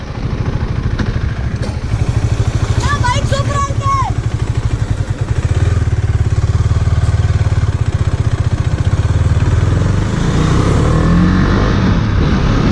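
KTM Duke 250 motorcycle ridden through tight turns, its engine a steady, loud low rumble throughout with a brief rise and fall of revs; voices talk over it.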